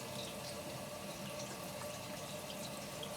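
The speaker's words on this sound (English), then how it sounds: "I'm just going to start filling from that dispenser" Water runs steadily from a fill dispenser into an RV's plumbing during spring unwinterizing, a continuous close hiss of flowing liquid with no talk.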